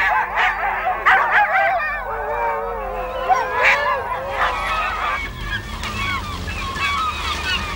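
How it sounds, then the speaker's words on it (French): Greenland sled dog huskies bark, yip and howl together close by, a chaotic overlapping chorus of wavering howls and sharp yelps that carries throughout. "les premiers chiens de traîneau, les huskies, véritables fauves, hurlant à longueur de journée"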